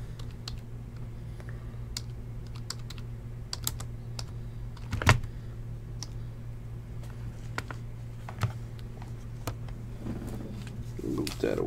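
Someone types on a computer keyboard to note something down at a table during a baseball card box break, giving steady close clicking with a few louder knocks over a low hum.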